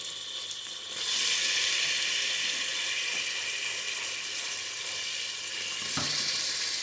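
One kilogram of boneless beef frying in a pot for korma, a loud steady sizzle that swells after the meat goes in, with a brief clatter near the end.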